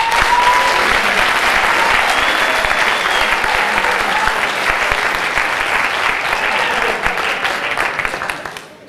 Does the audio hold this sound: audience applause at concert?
yes